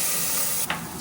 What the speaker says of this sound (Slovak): Z každej strany mäso pečieme tak približne 2 až 3 minúty, aby dostalo dostatočnú farbu.